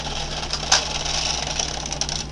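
A sewing machine stitches rows across fabric, a close steady mechanical whir with a faint rhythmic ticking and one sharp click near the start, no talking.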